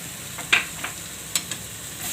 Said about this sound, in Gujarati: હવે આપણે આ મરચાં નાખી દેવું આમાં.